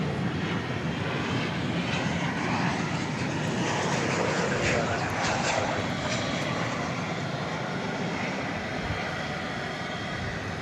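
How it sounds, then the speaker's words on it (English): American Airlines Boeing 737-800 arriving at DFW Airport after dark, a sustained loud engine roar that swells slightly and holds for the whole stretch. "Arriving from Richmond, American Flight 2067, 737-800."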